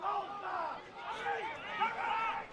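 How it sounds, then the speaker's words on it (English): Spectators at a local Australian football elimination final between Hurstbridge and Greensborough shout and call out together, a loose chorus of raised voices rising and falling with no single clear word. "You can hear the crowd below telling him to go back and have a shot."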